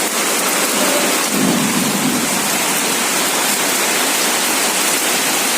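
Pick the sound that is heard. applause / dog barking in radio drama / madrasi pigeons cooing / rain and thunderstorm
rain and thunderstorm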